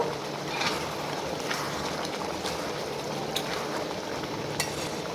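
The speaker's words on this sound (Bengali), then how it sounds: "দেওয়ার পরে একটু নাড়িয়ে নেব" Chicken curry with freshly chopped coriander is stirred in a pan, with a soft continuous frying hiss and light scraping stirs close by.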